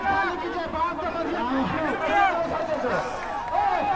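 A large crowd murmurs and chatters at an election rally held on the Vinod Bihari Mahto football ground in Kargali, producing a steady, dense babble of many voices at moderate distance throughout.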